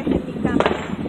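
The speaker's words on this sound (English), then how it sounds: "I caught that firework on camera." Fireworks bursting on the 4th of July in woodland at night: a short cluster of crackling pops and booms at moderate distance, loud against the surrounding noise.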